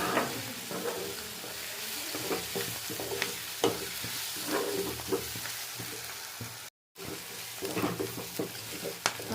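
Onions frying in a pan for chicken curry, a continuous close sizzle with frequent scraping and stirring strokes, moderately loud, with a brief dropout near the end.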